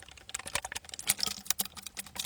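An emptied box of wine gives a quiet run of irregular, clicky crackles and sputters close by, the sound of a spent bag-in-box being squeezed dry, with no talking.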